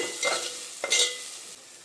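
Ingredients for tomato kurma being stirred and fried in a pan, with soft sizzling and a couple of scraping stirs, steady and close with no talking.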